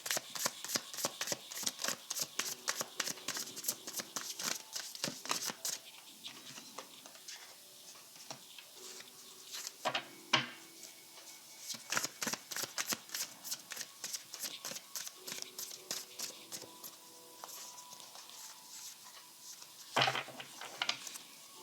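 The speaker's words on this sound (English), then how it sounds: "I'm getting mixed signals on that card, so I'm just going to shuffle." Tarot cards being shuffled by hand, rapid riffling bursts of crisp card flicks repeating in quick runs with brief pauses and a few louder taps, close and without talking.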